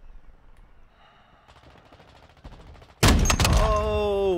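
Gunfire from Call of Duty Modern Warfare 2 erupts loudly after a quieter stretch of game ambience, a dense burst of shots that keeps ringing to the end.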